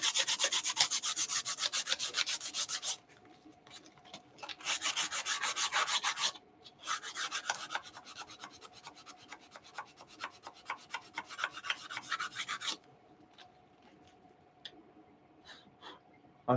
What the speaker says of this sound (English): It needs a bit more sanding down.